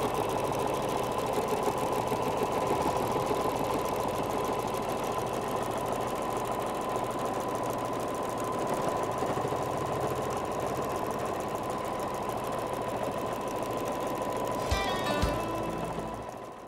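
A sewing machine tacks down appliqué on a boy's fancy regalia apron, a continuous fast mechanical whir with rapid stitching rhythm at moderate level, stopping briefly near the end.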